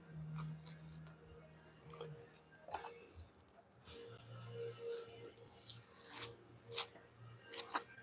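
A knife scraping fat from the inside of bluefin tuna belly skin, faint intermittent rasping strokes with a low background hum and soft handling noises.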